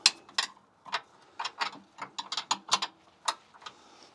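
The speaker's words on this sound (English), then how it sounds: "just got my extended ratchet here" Extended ratchet turning a nut on a BMW front control arm, giving a run of sharp metallic clicks in uneven bursts, close and clear with no talking.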